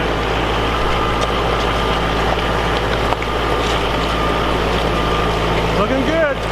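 An LS XR 4040 tractor engine runs steadily up close, a constant low droning hum with a faint voice briefly rising near the end.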